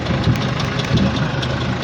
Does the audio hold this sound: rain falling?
no